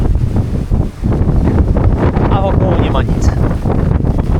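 Strong wind on an Albanian beach beside a remote restaurant roars and buffets the microphone steadily while someone talks over it.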